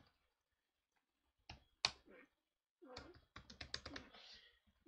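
Computer keyboard typing code for a NodeJS ejs template. A few isolated clicks, then a quick burst of closely spaced keystrokes, quiet and close.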